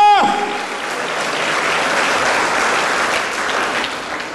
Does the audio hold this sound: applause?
yes